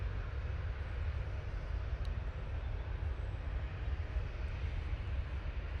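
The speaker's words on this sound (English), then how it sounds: "Ryanair coming down" A Ryanair airliner descends toward Manchester Airport, a steady broad low rumble of jet engines at a distance, fairly faint and unchanging, with no talk.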